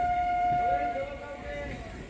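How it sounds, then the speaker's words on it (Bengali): A Bangaon–Majerhat local train pulls out on the adjacent track at a West Bengal station, its sustained tonal hum or horn ringing steadily over a busy platform while a person talks nearby. "আমাদের সঙ্গেই বেরোচ্ছে নটা পঞ্চাশের বনগা মাঝেরহাট লোকাল"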